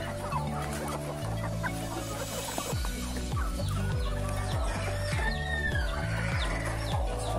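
A country hen clucks steadily among her newly hatched chicks on a poultry farm, low repeated clucks in an even rhythm with faint peeping chick chirps scattered above, close and clear.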